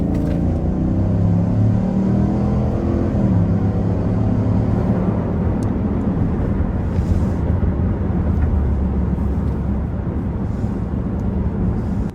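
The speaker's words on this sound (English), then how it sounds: "let's go ahead and see how the Sierra can handle a hill with an acceleration test" A 2025 GMC Sierra Denali Ultimate pickup with a V8 engine, accelerating hard up a hill, gives a loud, steady, deep engine roar with a rising tone that fills the whole stretch, heard close and without talk.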